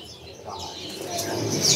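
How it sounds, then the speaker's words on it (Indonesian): A caged black-browed kerak basi bird at a bird market calls with soft, cooing notes that rise in loudness toward the end, heard fairly close against a busy background. "Ini ada burung kerak basi alis hitam ya"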